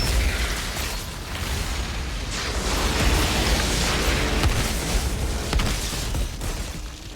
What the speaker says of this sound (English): No, I love that explosion ability.